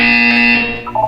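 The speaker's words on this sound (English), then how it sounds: "You will hear a buzzer." A buzzer sounds in the Portal 2 video game: one loud, steady electronic tone held for under a second, then fading into a brief softer tail, with no voices.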